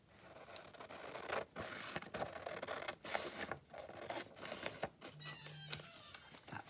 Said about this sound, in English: let's cut the big scissors